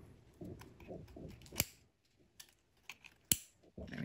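Scissors cut material during an RDTA coil build, giving two sharp, close snips among faint handling clicks, with no talk.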